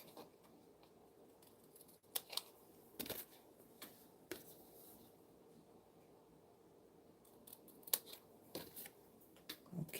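Metal craft snips cutting through the edges of paper or cardstock in a quiet studio, a few sharp scattered snips and clicks with light handling noise between them, fairly faint and with no talking.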